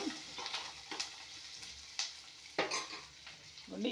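Ingredients fry in a pan as they brown, a soft steady sizzle broken by several sharp stirring and scraping clicks of a utensil against the pan, close and fairly quiet.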